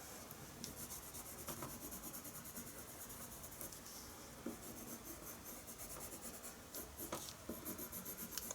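An ivory colored pencil burnishes over paper, drawing curly fur, producing a close, continuous scratchy rubbing with short repeated strokes and occasional sharper scrapes.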